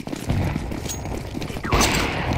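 Decoy grenade in Counter-Strike 2 imitating gunfire, a rapid clatter of sharp shots with mechanical clicks, a louder burst toward the end.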